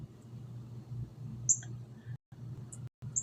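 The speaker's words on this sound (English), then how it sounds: "Hey, Cardinal. Hear him?" A few short, high chirps from a cardinal ring out faintly and sparsely over a quiet, low outdoor background.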